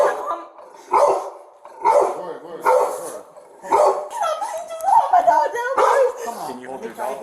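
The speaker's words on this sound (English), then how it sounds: "Can you hold your dog?" A dog barks in loud, repeated bursts close by during a tense arrest scene, with people talking over and between the barks.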